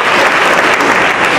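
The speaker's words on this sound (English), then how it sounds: "give a round of applause for yourselves" Loud applause from the audience at the 2012 Gift of Life Donor Program's annual gospel concert, a thick continuous wash of clapping that holds steady throughout.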